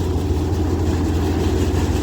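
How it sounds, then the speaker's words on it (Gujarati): A tractor engine, just started, runs at a steady idle with a close, loud, low rumble and no change in pace. "હવે ટ્રેક્ટર ચાલુ કર્યું છે"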